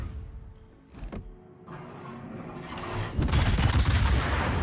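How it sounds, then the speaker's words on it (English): Naval guns firing in World of Warships, with a sharp isolated report followed by a sustained roar of broad, rumbling cannon fire that grows louder and dense near the end, without talk. "Someone shot me."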